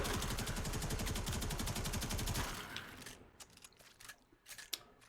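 Kuva Karak rifle in the Warframe video game firing a rapid, evenly spaced burst of loud shots for about two and a half seconds, followed by scattered clicks and softer impact sounds.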